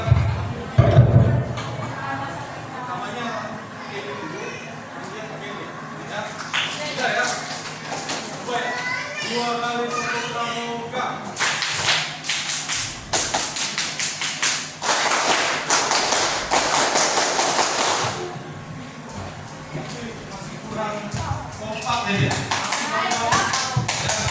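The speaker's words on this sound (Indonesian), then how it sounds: "Jadi saya minta 2 kali tepuk pramuka." A school scout group performs the Indonesian scout clap in unison, bursts of rhythmic hand clapping from many people rising loudly over a murmuring crowd, with talk between rounds.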